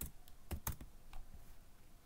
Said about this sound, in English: Now type in the search box Katana